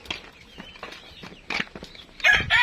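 Chickens cluck and squawk in short scattered bursts, fairly close, with a louder flurry of calls near the end.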